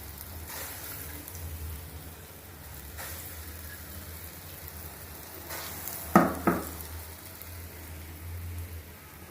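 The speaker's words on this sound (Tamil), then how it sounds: "இதை கொஞ்சம் சிம்மில் வச்சே பொரிச்சு எடுத்துருவோம்." Paal paniyaram dough balls fry in hot oil over a low flame, giving a steady soft sizzle with two brief sharp crackles partway through; nobody speaks.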